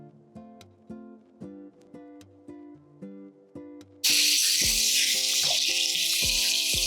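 Ground green chili dropped into hot tempering oil for a Mumbai-style vada pav filling, setting off a sudden loud, steady sizzle that cuts in midway over a repeating melodic music loop and continues to the end.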